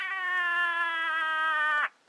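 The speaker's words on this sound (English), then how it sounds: "Most cat songs are very short." A cat lets out a single long, sustained, tonal meow that holds steady for nearly two seconds and then cuts off sharply, close and clear against quiet.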